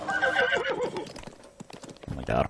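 In the Zelda Breath of the Wild game, a horse whinnies loudly, then hooves clop in a quick rhythm, and a second neigh rises at the end, with a voice talking over part of it.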